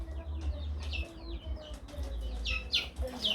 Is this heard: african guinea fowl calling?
yes